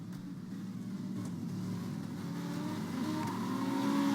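GT1 race cars running in a racing video game, a steady loud engine drone that builds slightly with revving through the clip, no talk.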